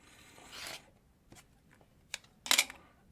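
Quilting fabric trimmed along its edge during a log cabin quilt block session, with a soft rustling cut followed by sharp, brief snips and a final crisp burst of cutting close by.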